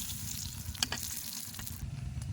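Onion and green chilli frying in oil in a pan, giving a steady close sizzle with a few brief stirring scrapes and no speech.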